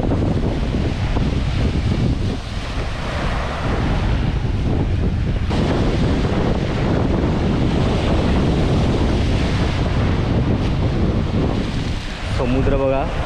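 A rough, churning sea off the coast at Kunkeshwar, Devgad, with waves surging and crashing continuously close by under heavy wind noise on the microphone, and a voice breaking in briefly near the end.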